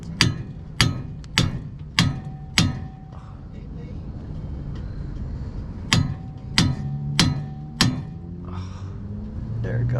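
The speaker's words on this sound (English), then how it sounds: "And then you're gonna use a pickle fork." Hammer strikes on a pickle fork driven between a BMW E36 steering knuckle and its outer tie rod end: a run of sharp metallic clangs in quick rhythm, a pause, then another burst of blows, close and loud.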